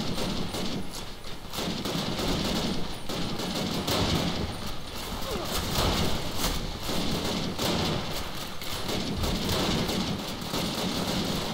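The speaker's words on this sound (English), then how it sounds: "I don't talk when I'm shooting." Dense, continuous gunfire from the World War II shooter Call of Duty: United Offensive, with overlapping rifle and machine-gun shots crackling steadily for the whole stretch, loud and close, without any talking.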